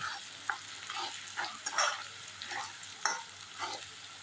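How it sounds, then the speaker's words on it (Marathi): Grated coconut sautéed in a tempering for bharangi leaf bhaji, with repeated scraping stirs of a spoon against the pan in an uneven rhythm over a soft, low sizzle. "आता हा नारळ छानपैकी परतून घेऊया"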